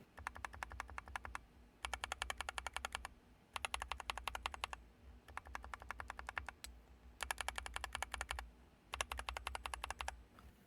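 Typing on a Nuphy Halo65 mechanical keyboard with kangaroo switches comes in five bursts of rapid, crisp clacks separated by short pauses, close and clear with no talking.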